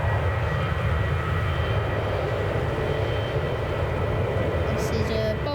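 Boeing 737 jet airliner at Manchester Airport gives off a continuous, fairly loud engine roar with a deep rumbling base, steady for several seconds, while someone speaks quietly nearby.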